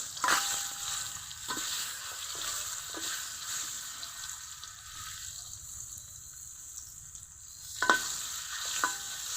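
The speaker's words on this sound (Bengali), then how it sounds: "এখন ডিমগুলো দিয়ে হালকা করে ভেজে নেব" Eggs fry in oil seasoned with salt and turmeric, giving a soft, steady sizzle broken by a few sharp scrapes and taps of a spatula in the pan, louder near the start and end.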